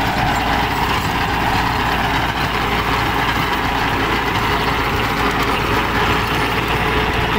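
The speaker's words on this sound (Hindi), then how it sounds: "45 HP ट्रैक्टर, 8 फुट रोटावेटर, 740 चक्कर कुबोटा।" A Kubota 45 HP tractor pulls an 8-foot rotavator turning at 740 rpm through farm soil, its loud engine drone and churning blades running steadily and close throughout with no talk.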